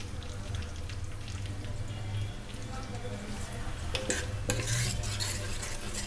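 Cooked dal being stirred in a pot, soft scraping and wet stirring sounds that build toward the end, with a low steady hum underneath.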